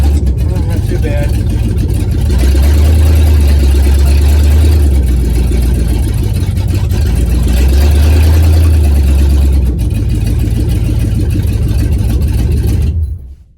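The engine of a 1965 Plymouth Satellite runs loudly and close, with a deep throbbing rumble that swells and eases in long surges before cutting off at the end. A person talks over it.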